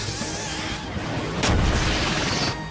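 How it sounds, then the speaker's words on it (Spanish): A powerful Grenade Shot kick in the Inazuma Eleven Strikers video game lands as a loud, explosive boom over a constant game roar, with a sharp burst midway that rumbles on to the end. "Vamos a hacer este chute granada que tiene Sam. ¡Chute granada!"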